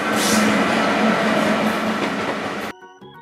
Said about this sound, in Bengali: রেলগাড়ি জোরে চলে।